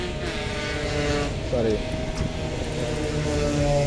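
A used car's engine idles with the hood open, a steady low mechanical hum and whir running throughout, with a brief spoken word near the start.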